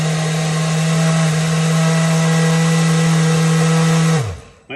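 A kitchen blender mixes a spinach smoothie with blue Gatorade, a loud steady motor whine holding for about four seconds before winding down abruptly and stopping.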